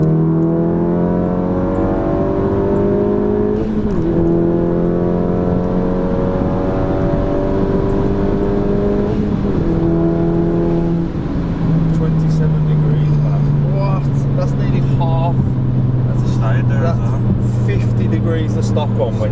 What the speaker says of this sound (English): second gear pull